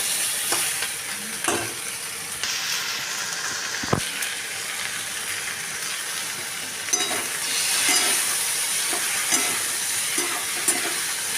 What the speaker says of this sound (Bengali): এখানে আলু, গাজর এবং টমেটো খুব ভালো করে ভাজা হয়ে গেছে।